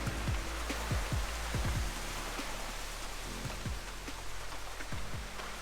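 Rain falls steadily on a house under renovation, a dense hiss of drops with heavier drips striking nearby surfaces, close and continuous without talk.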